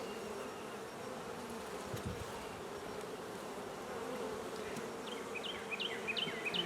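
A dense, steady buzz of many honeybees around a hive fills the air close by, with a few chirping bird notes appearing near the end.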